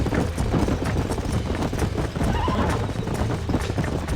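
Rapid hoofbeats clatter close by as horses move in the video game Red Dead Redemption, with a horse's whinny rising in the middle of the busy clopping.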